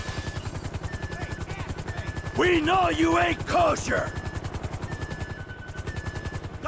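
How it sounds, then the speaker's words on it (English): Helicopters in Grand Theft Auto V, FIB choppers arriving for a pickup: a steady rapid rotor chop runs throughout the clip, with a loud voice shouting over it near the middle. "FIB choppers, pick me up!"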